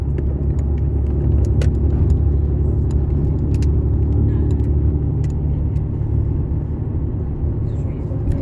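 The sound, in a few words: car driving in a Warsaw traffic jam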